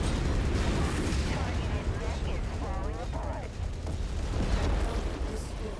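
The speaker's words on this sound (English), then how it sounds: "somebody's firing missiles at me" Missiles slam into the player's mech in MechWarrior 5: Mercenaries, a dense barrage of booming impacts and rumbling explosions that roar continuously at high loudness, with a voice talking over the battle.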